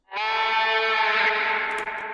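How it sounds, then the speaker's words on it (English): A sustained, harmonically rich sample, pitch shifted down and run through a guitar reverb, rings loud and steady for about two seconds with a bleating, chorus-like wobble, from a track in the Trepang2 soundtrack. "I actually put it through a guitar reverb"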